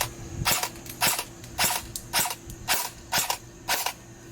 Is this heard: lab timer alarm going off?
no